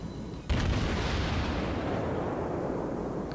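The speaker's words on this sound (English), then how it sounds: "Battleship destroyed." Heavy gunfire in a naval warfare video game as a battleship is destroyed: a sudden loud booming blast followed by a sustained roaring rumble of fire and explosions.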